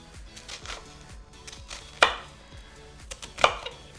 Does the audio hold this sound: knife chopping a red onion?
yes